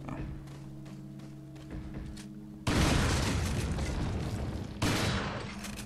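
Two heavy explosions boom in a Resident Evil 4 game scene, the first after a stretch of low game ambience and the second a couple of seconds later, each a loud broadband blast with rumbling decay.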